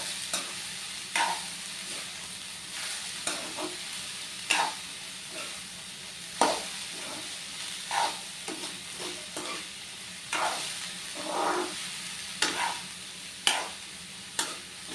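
Chopped banana stem thoran frying in a pan, a soft, steady sizzle with regular scraping stir strokes every second or so, near and fairly quiet, without talking.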